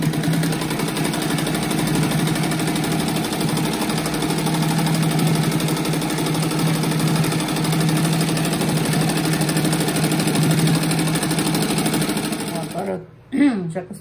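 A sewing machine runs continuously, stitching a second seam around the edge of a fish-shaped rug with ruffles, a loud steady mechanical whir that stops abruptly near the end.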